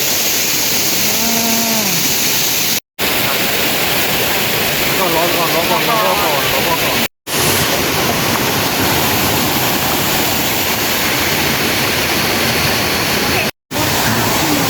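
Steady roaring rush of a waterfall fills the scene in Phu Langka National Park, Bueng Kan, Thailand, with someone talking over it and brief cuts of silence.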